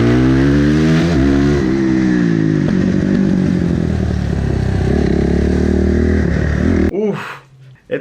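A racing motorcycle engine at an urban street race drones loud and close for about seven seconds, the pitch shifting as the throttle is worked, then cuts away into a brief rushing, clattering noise.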